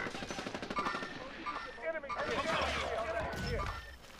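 Rapid automatic gunfire from the video game Call of Duty Warzone, Plunder mode, crackling in dense bursts throughout, loud and close, with excited players talking over it.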